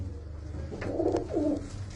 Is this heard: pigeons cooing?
yes